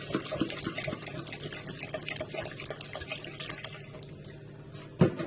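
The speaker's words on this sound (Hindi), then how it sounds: "अब हम इसमें तकरीबन 1 लीटर तक पानी डाल देते हैं।" Roughly a litre of water poured into a pot of mutton korma for haleem, a continuous close splashing rush that steadies and eases toward the end, closing with a brief clunk.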